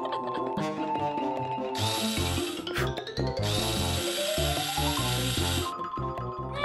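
A power drill drives screws into a toy wall in a cartoon-style scene, its whine rising and falling in several short bursts over background music.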